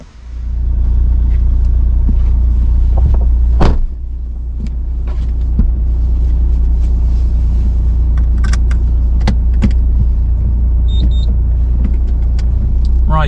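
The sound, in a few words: Fiat Panda 4x4 driving with its new differential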